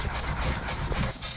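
Sandpaper rubbed by hand over oxidized ZR1 wheels being refinished for an S10 Syclone truck build, a steady loud scratchy back-and-forth grinding that runs continuously at close range with no talk.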